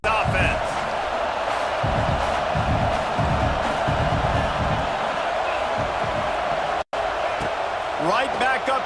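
Stadium crowd noise from the NCAA 26 college football video game forms a dense, steady roar of fans, with thumps and brief cheers, heard under play-by-play commentary.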